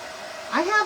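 A hair dryer switches on partway through to dry a watercolor painting, rising from near silence into a close, steady whirring blow.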